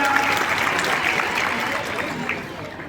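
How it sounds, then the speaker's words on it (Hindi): Students applaud their teachers at a school assembly at an inter college, a dense, steady wash of clapping from a large crowd that holds evenly before thinning slightly near the end. "जोरदार तालियां इन सभी के लिए, जोरदार तालियां बजाओ, जरा बजाओ तालियां।"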